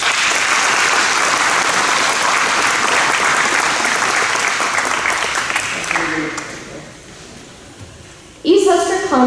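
An audience at a high school academic awards ceremony applauds a clarinet duet and a bass clarinet solo with dense, sustained clapping that fades after about six seconds, followed by a pause and then a speaking voice.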